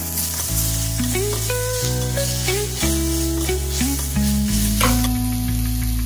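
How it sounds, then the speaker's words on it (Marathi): Onion and garlic sauté in a pan for a home-style prawn curry, a loud steady sizzle heard beneath a prominent melodic music track, with no speech. "हे सगळं आपण परत नीट परतून घेऊ आणि मग टाकू त्याच्यामध्ये टोमॅटो"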